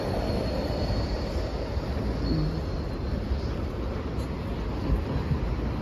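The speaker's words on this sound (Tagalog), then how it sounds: "Tingnan nyo ang train dito. Ayan ang release ng train." A train moving through the rail station at Saint-Laurent-du-Var, France, heading toward Ventimiglia, gives a steady rumble of wheels and rail noise with faint wind and a thin high squeal, continuous and fairly close throughout.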